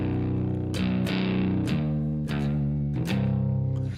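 Distorted electric guitar tone shaped by a pedal board in the Drum Surgeon iOS app, playing sustained heavy chords with several sharp strummed attacks, loud and alone with no voices.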